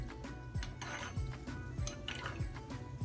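Gulab jamun frying in oil are stirred gently, giving soft sizzling with repeated light scraping strokes of a utensil against the pan at a steady rhythm, quiet and close.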